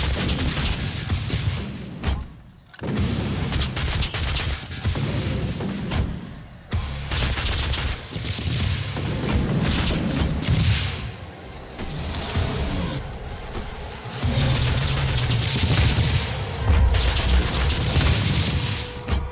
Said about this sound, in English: One of the frag grenades.